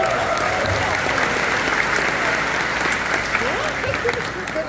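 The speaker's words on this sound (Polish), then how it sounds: "Wielkie brawa!" The audience at the Miss Polonia pageant applauds in a dense, continuous wash of clapping, with faint voices and whoops mixed in beneath it.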